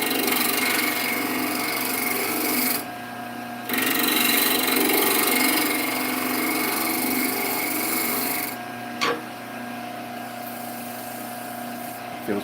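A bowl scraper is drawn over a wooden bowl, producing a steady, continuous raspy scraping close by that runs almost without pause, with one brief break and a small knock partway through.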